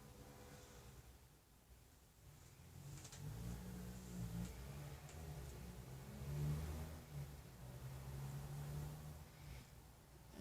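An off-road car engine in a video game hums and revs steadily, rising and falling in pitch as it accelerates over rough ground, with no talking.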